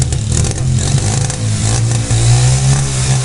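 A motorcycle engine revs hard and loud up close, a rough throbbing roar with surging pitch that rises and dips across a few seconds, no talk over it.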